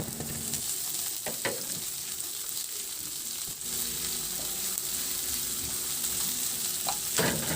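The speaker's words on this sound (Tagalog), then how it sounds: "Ihalo lang din hanggang sa maglabas ng aroma at isunod ko na rin yung sibuyas." Garlic and onion sauté in hot oil in a pan, a steady close sizzle with a few utensil scrapes and clicks, no voices.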